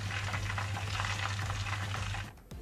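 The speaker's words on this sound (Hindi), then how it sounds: "और इसको तकरीबन 5 मिनट और फ्राई करेंगे।" Chicken pieces for Korean fried chicken crackle and bubble steadily in hot oil at medium heat, a close, continuous sizzle that drops away abruptly near the end.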